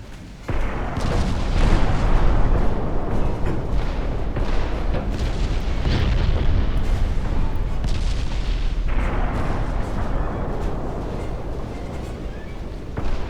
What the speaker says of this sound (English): there are explosions, there are flash fires